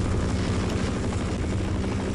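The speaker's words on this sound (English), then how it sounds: "And with that chopper, it's gonna be harder." A helicopter in the video game Half-Life roars with a steady, dense rotor-and-engine drone, loud and unbroken, with no voices.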